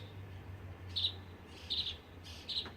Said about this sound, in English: I like the little chirpy it's doing.